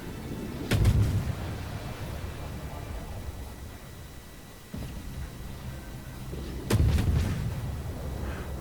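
Naval guns firing at an enemy ship in World of Warships, two heavy booming salvos a few seconds apart, with smaller thuds between them over a steady background rumble.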